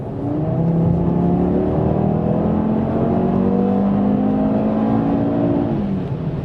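An Audi TT's 2.5-litre five-cylinder engine pulls hard under acceleration, a loud, steady growl whose pitch climbs in stepped rises through the revs, close and continuous with no talking.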